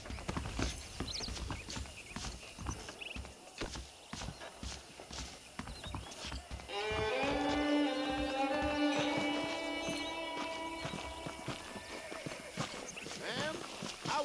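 Horses' hooves clip-clop in a steady walking rhythm in Red Dead Redemption, close and continuous, with other game sounds layered over the second half.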